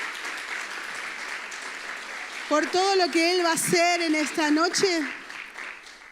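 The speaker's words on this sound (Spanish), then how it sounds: "¿Vamos a dar un aplauso al Señor?" Steady congregation applause fills a church service, a continuous wash of clapping that carries on beneath a preacher speaking over it in the middle of the clip.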